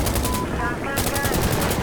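Loud rapid automatic gunfire in the video game Insurgency Sandstorm, a steady stream of shots with a brief break midway and faint radio-like voices underneath.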